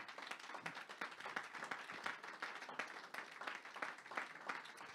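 Church congregation applauding during a French-language worship service, a continuous dense patter of many hands clapping at steady loudness for several seconds.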